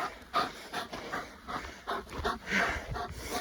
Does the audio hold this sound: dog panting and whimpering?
yes